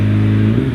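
A hillclimb race car engine at the British Championship at Shelsley Walsh, with a loud, close, steady tonal drone that shifts pitch slightly near the end of a short burst, suspected of running rough.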